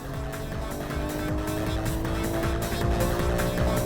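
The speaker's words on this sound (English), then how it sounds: "And here goes Taku, cutting to the inside of Big Papa with good braking" Race cars in a Best Motoring circuit battle, including a Porsche, Evo 7, GTR and Impreza, roar steadily with engine drone, tire squeal under braking and cars passing close by, loud throughout with no talk.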